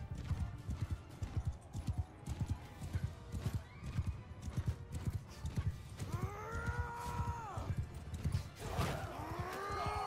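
Galloping horse in Mount & Blade II: Bannerlord, fast steady clip-clop thudding up close, with several loud neighs and whinnies in the second half.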